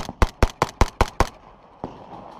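Six sharp blank-fire gunshots crack in quick, even succession during a Milsim West engagement, followed by a single fainter shot after a short pause, close and loud.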